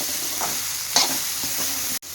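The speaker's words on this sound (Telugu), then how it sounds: "బటర్లో వేయిస్తున్నారు బటర్లో వేస్తున్నారు మంచిగా వేగినాయి" Sweet corn kernels sizzle steadily in melted butter in a pan, close and loud, while a spoon scrapes and stirs them in a few soft strokes.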